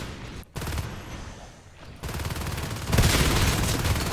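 Shotguns blast in rapid bursts during a Natural Selection 2 match fight inside the hive, the shots dense and overlapping with game noise, growing louder toward the end.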